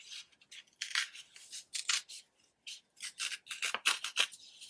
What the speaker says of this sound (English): But what I'm going to do is just tear it.